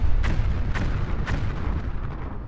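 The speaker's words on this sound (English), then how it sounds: "Many explosions." Three deep booming video game explosions in quick succession, followed by a rumbling blast-like wash that fades.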